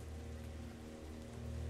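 Rain falls in a video game, a dense, quiet patter that stays steady and continuous for the whole short stretch, with no voices over it.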